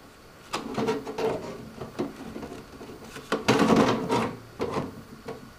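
A 3.5-inch hard drive slides into the toolless mounting bay of a Thermaltake Dokker mid-tower case, giving close, loud scraping and clunking with several bursts of plastic-and-metal friction and a few sharper knocks.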